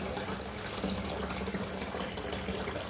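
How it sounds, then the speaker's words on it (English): Bath water pours steadily from the tap into a tub turned bright pink by a bath bomb, a continuous close rushing splash with no talk. "The bath water."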